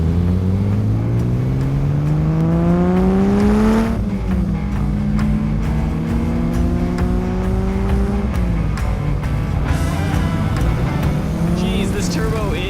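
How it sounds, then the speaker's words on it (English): Turbocharged BMW E30 driving hard on the Willow Springs race track, loud in-car engine revving that climbs through gears with shifts around four and eight seconds, with tire noise underneath and occasional voices. "Geez, this turbo is pretty insane. I'm not used to having an E30 with power."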